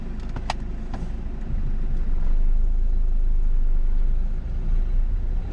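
A car pulls away and shifts up during a driving lesson, its engine rumbling steadily close by and swelling slightly as it gathers speed, with a few faint clicks early on and no talking.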